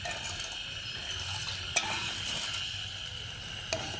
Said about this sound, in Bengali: এবার আমি চিনিটাকে ভালো করে গলিয়ে একটা পাতলা শিরা তৈরি করে নেব